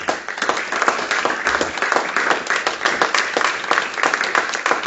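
A church congregation at a teaching meeting applauds to acclaim the Lord, a dense, steady round of many hands clapping close by that continues throughout without a break.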